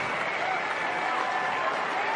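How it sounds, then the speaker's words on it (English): Cricket stadium crowd at Edgbaston applauding and cheering a half-century in an Ashes match, a dense, steady roar of clapping throughout. "the crowd erupts because it's also a half-century"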